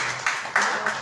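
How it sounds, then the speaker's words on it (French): A small crowd claps for a guest who came from France to spend the holidays with them, at a Shavuot gathering. The clapping is brief and bursty, a few loud swells within a second. "On peut l'applaudir."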